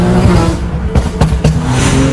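A car engine roars and revs loudly in a TV news report, a steady throaty drone with a few sharp surges, close and dominant with no talk over it.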